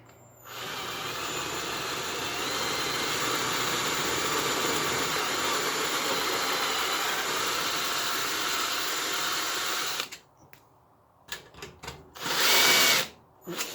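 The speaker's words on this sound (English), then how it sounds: "Once again, just punching our pilot hole there. Take our drill." A power drill runs steadily for about ten seconds punching a pilot hole, a continuous close whine, then stops, followed by a few short bursts and clunks.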